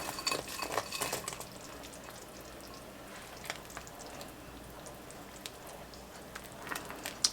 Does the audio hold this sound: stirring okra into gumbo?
yes